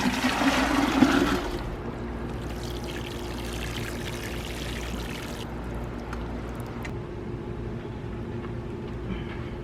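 Water is poured out in a desert garden, a brief splashing gush at the start that gives way to a steady low hum and faint background noise.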